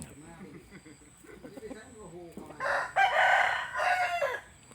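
Someone talks, then a rooster crows loudly nearby, a long drawn-out call rising and falling over a couple of seconds.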